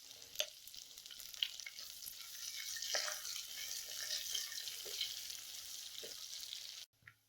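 Garlic and curry leaves sauté in a pan for a fish curry, a soft steady sizzle with occasional clinks and scrapes of stirring, moderately faint and close, with no voices.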